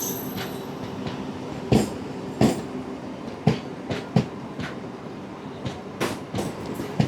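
Express train starting to move, heard from inside a 2A coach, with a low rumble and a series of distinct wheel clunks and clacks at irregular intervals, moderately loud and close.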